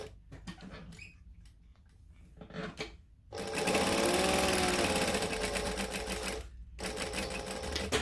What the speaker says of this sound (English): I'm going to stitch and back stitch.